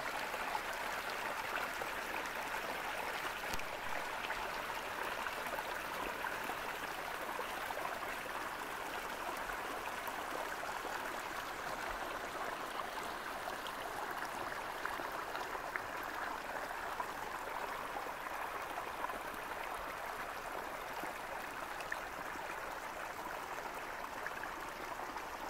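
A stream flows in snowy hills with a constant soft rushing and trickling, steady and moderately close, with no talk.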